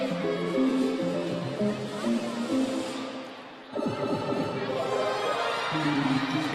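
Gymnastics arena crowd at a college meet, a steady roar of voices with a sung melody over it, dipping briefly before swelling again; a commentator's voice is mixed in.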